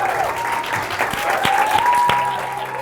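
Sustained crowd clapping at a debating competition ceremony, dense and even from start to finish, with faint voices mixed underneath.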